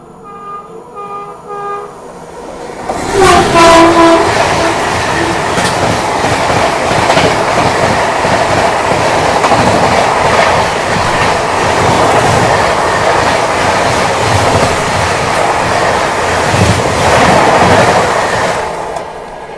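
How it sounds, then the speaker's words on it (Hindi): The Bangalore Rajdhani Express overtakes at speed, a loud continuous roar of wheels and carriages with clickety-clack rhythm and a horn toot near the start, heard close from a halted train. "तो फाइनली ये आ गई अपनी बेंगलोर राजधानी एक्सप्रेस ओवरटेक करने।"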